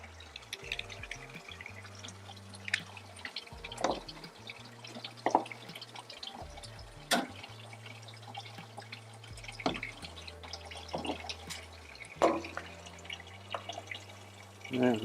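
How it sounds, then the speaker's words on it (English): Water dripping from a leaking outdoor sink faucet, scattered irregular close drips and small splashes over quiet background tones. "it looks like I'm dripping a little bit right here too"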